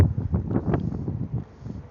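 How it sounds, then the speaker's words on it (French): Gusty wind buffets the microphone outdoors in Valletta, Malta, a steady low rumble rising and falling in irregular puffs, fairly close and unbroken by speech. "Là, le vent il souffle."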